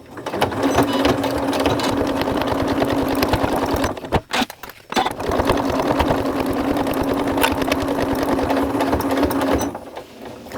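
A sewing machine stitching steadily around the edge of a fabric teddy bear toy, a loud, even mechanical hum with fast needle clatter, briefly stopping and restarting partway through, then slowing at the end.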